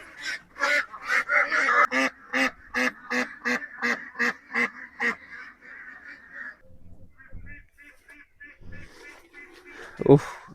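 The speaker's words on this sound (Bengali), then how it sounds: "হাঁসের ঘর খুলছে এখন" Domestic ducks let out of their duck house give a rapid run of loud, regular honking quacks, then fade to scattered quieter calls and shuffling.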